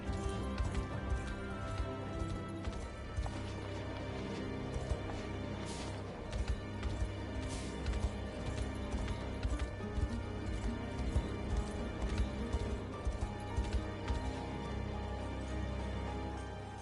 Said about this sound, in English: You will move more quickly through the overworld atop a steed.